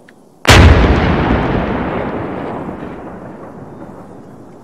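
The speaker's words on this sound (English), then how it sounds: "You can actually see the rounds being shot." A single heavy artillery round fires with a sharp, loud boom in a video game, then a long rolling echo that slowly fades over several seconds.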